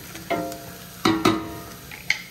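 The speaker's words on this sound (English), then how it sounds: "Hear it? Hear it frying? I can smell the onions now." Onions frying in a pan for bolognese give off a soft sizzle, broken by a few sharp stirring scrapes and clatters close by, with no talking.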